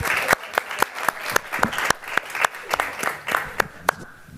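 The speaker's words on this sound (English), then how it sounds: "Another applause." Audience applause after a talk and Q&A session on the future of work, a moderate crowd clapping with distinct sharp individual claps standing out near the microphone.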